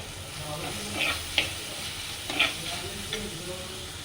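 Spices and onions for a prawn roast fry in a pan and are stirred, giving a soft steady sizzle with several scraping stirs and light clinks, close up, with no talking.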